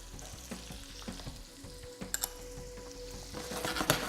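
Baby beans fry in an oil and butter mixture with a soft, crackling sizzle. A few sharp clinks and stirring scrapes sound close by, and no one speaks.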